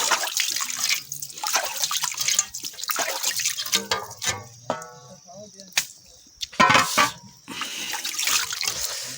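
Water splashes and trickles as something is washed in clean water in a village setting, with irregular pours, drips and sloshes, some brief loud splashes and a little faint background voice.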